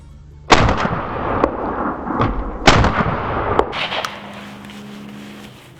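A shotgun loaded with reloaded Fiocchi hulls fires several loud, sharp blasts with booming echoes, spaced a second or two apart outdoors, followed by fainter mechanical clicks from the gun.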